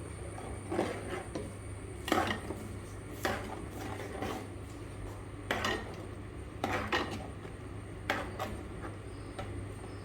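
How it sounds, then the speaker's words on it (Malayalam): A spoon stirs ground coconut paste into a ripe mango pulissery curry in a pot. Irregular scrapes and clinks of metal knock against the pot, fairly close, with no talk. "തേങ്ങ അരച്ച് ചേർത്ത് നന്നായിട്ട് ഇളക്കി"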